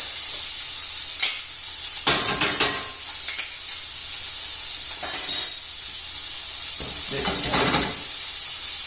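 Peppers hit butter in a pan with a steady hiss of sizzling, broken by a few louder bursts and scrapes of stirring, close by and without talk.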